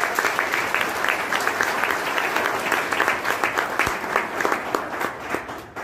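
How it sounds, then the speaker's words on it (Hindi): An audience at a seminar on direct selling claps in a dense, continuous round of applause that holds steady for several seconds before thinning slightly near the end. "ताली बजानी है तो ढंग से बजा लो तुम लोग।"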